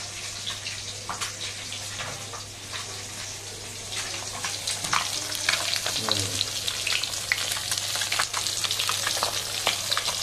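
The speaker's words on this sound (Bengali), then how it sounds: "এই যে মাছ ভাজা হচ্ছে।" Katla fish sizzles steadily as it fries in a pan, a close, continuous crackling hiss with scattered pops and faint stirring throughout, no voices.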